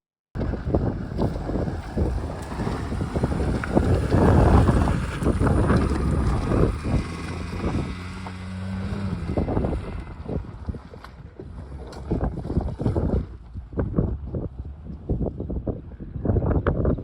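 A 1997 Toyota RAV4 drives off-road over rocky, sandy desert hills at Five Mile Pass in Utah, with a continuous engine rumble, wind buffeting and crunching, rattling bumps throughout.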